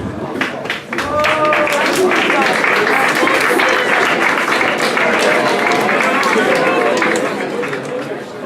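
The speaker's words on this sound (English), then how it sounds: "thank you for the somewhat lukewarm applause" A school award ceremony crowd gives a lukewarm round of clapping that swells and holds steady, with voices speaking and chattering over it throughout.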